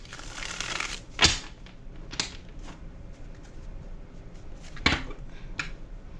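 Tarot cards being shuffled by hand, soft papery riffles and rustles with a few sharper slaps, close and fairly quiet, with no talk.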